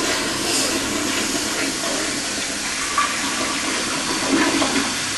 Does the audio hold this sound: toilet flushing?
yes